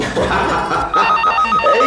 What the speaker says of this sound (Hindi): किसका फोन आया?